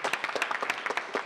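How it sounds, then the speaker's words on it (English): A round of applause from a gathered audience at a literacy and learning center event, with distinct claps close by forming a quick, uneven patter over a short burst. "let's give them all a round of applause for their terrific support"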